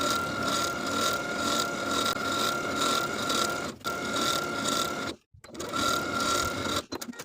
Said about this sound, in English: we're going to edge stitch from center front, edge stitching right along that upper fold, all the way across to the opposite center front